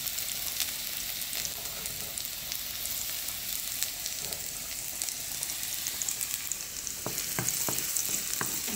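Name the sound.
rice frying with garlic in a pan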